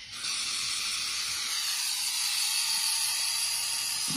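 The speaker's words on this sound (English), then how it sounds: "Spray that old sticky stuff" A steady, continuous hiss of adhesive spraying from an aerosol can onto an old Bayliner boat hatch lasts about four seconds, close and fairly loud, with no talking.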